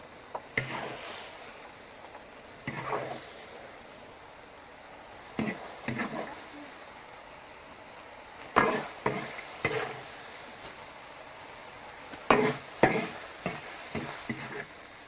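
Spicy double-pepper rabbit ladled out of a wok, with scattered close clanks and scrapes of a ladle against metal in short bursts over quiet background hiss.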